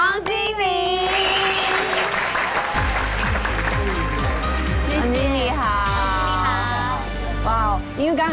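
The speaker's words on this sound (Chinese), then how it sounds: "让我们掌声欢迎" A studio audience on a Taiwanese TV food show applauds to welcome a guest, a steady wash of clapping that lasts throughout while hosts talk and exclaim over it.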